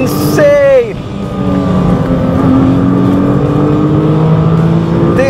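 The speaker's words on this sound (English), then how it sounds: "All you need to do is downshift and mash the throttle." Nissan GT-R R35 twin-turbo V6 revving hard on a downshift, then pulling at full throttle, a loud, sustained rising engine drone heard from inside the car with a brief blip at the start.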